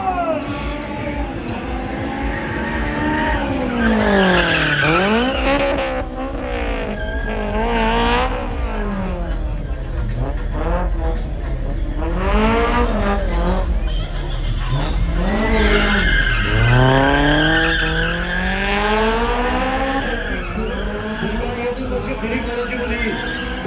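Cars drifting at an outdoor drift event, tires screeching in long, loud sweeping squeals over roaring engines, while an announcer talks throughout.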